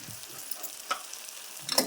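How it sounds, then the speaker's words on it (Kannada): Spiced breakfast mixture with chili powder frying in a pan, a soft steady sizzle broken by a few scraping spoon strokes, close and fairly quiet, with no voices. "ಇವಾಗ ತಿರುಗಬೇಕ್ರಿ"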